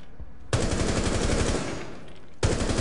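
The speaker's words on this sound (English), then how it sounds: "He's using the pistols." Pistol gunfire in Rainbow Six Siege comes as two loud bursts of rapid, close shots, the first long and sustained and the second starting just before the end, with no talk over it.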